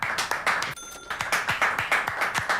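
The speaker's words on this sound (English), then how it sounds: "Oh wait, don't tell me everybody was actually clapping" An audience claps in a regular, rhythmic unison pattern of sharp, evenly spaced claps, with a brief pause midway, sounding close and somewhat canned.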